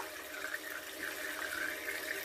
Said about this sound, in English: Now we're going to go over to my sink and get a sample of tap water.